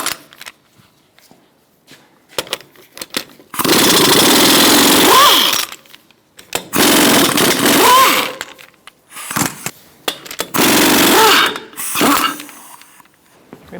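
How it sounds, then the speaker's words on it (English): An impact wrench with a 21mm socket loosens the wheel lug nuts on a 2002-2006 Toyota Camry 2.4L, in three loud rattling bursts separated by quiet pauses and small clanks. "Remove your lug nuts using a 21mm socket."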